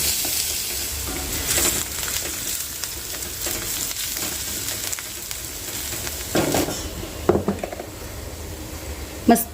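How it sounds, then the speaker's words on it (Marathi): Chopped onion sautés in a pan toward a light pink, a constant close sizzle broken by occasional scraping stirs and clinks of a utensil against the pan, with no one speaking. "कांदा आहे ना हलकासा गुलाबी रंगावरती परतवून घ्यायचा"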